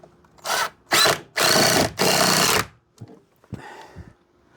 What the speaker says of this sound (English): And we will try to do one more screw again up in this corner.